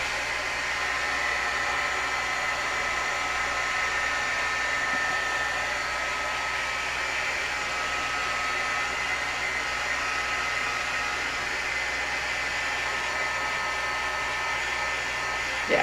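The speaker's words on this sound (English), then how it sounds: "So I am going to heat this to dry it" A heat tool blows continuously and loudly for the whole stretch, a steady airy roar like a hair dryer, used to dry watercolor paint on an embossed card.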